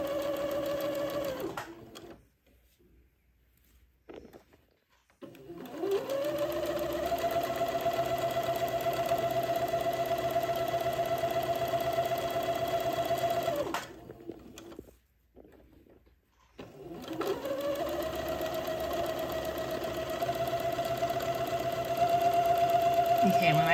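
A sewing machine stitches a seam on a Christmas bishop figure, whirring in two long, steady runs separated by quiet pauses, with a fresh burst starting at the end.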